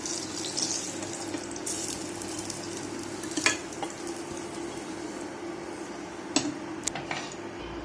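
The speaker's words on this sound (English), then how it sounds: "You can fry this on the same pan." Aloo potatoes frying in a pan for a Bengali dish, giving a continuous close sizzle with occasional sharp clicks and stirring knocks against the pan.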